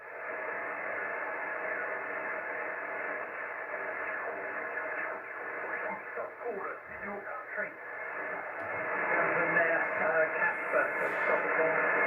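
Band noise on 40 meters from a Yaesu FT-891 transceiver: steady hiss and static fill the whole stretch. Faint garbled signals drift through it, and it swells slightly louder near the end.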